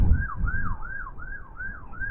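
An emergency siren wails in a steady repeating up-and-down cycle at the seaside in Blackpool, fairly close and loud over low rumbling wind and traffic noise.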